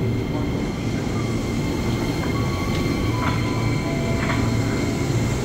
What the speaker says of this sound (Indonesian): Jalur 1 Jakarta Kota rangkaian 8 kereta